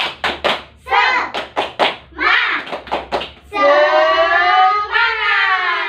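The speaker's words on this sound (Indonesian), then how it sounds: "ayo kita mulai nggih, tepuk semangat" Students in a classroom perform the rhythmic 'tepuk semangat' clap, with sharp claps in quick patterned groups alternating with chanted voices, ending in a long, loud drawn-out shout in unison.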